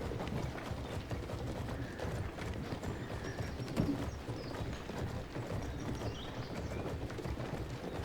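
Horse hooves trotting in the vampire video game V Rising, a steady clip-clop rhythm with a brief whinny partway through, heard up close over a dense game soundscape and no talk.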